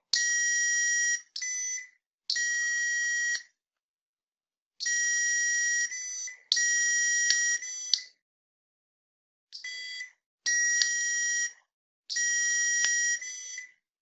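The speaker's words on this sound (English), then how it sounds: "So the buzzer look like if you trigger it, it only do it one time." A buzzer on a programmed MRT3 system sounds in eight loud electronic tone bursts of uneven length, separated by short silences, with no talking.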